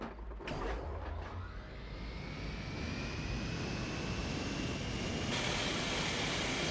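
Airship engines droning in the video game Worlds Adrift, a steady loud mechanical hum with a rising whine sweeping upward, continuous and alone for the whole stretch.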